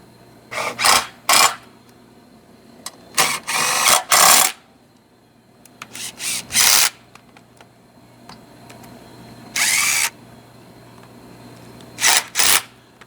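A power tool runs in short loud bursts, tightening bolts on a distributor mount for an LS 5.3 engine, with several spurts of whirring separated by pauses and a steady low hum underneath.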